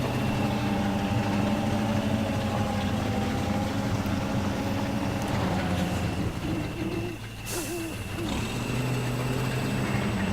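A KamAZ truck engine in the off-road driving game Spintires, a steady droning rumble with a constant hum throughout, briefly dipping before settling back to an even idle-like drone.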